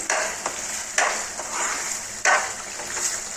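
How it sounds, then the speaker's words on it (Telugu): Dry fruits being fried and stirred in a pan while making sweet bread halwa, a steady close sizzle with a few sharper scraping stirs of a spoon against the pan. "వేయించి పెట్టుకున్న డ్రై ఫ్రూట్స్ మొత్తం ఇందులో వేసేసుకొని వేయించేసుకోవాలి ఒకసారి"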